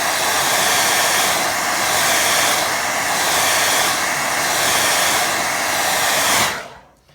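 A hair dryer blows a steady, loud, close roar over a watercolour painting for several seconds, then switches off and winds down at the end.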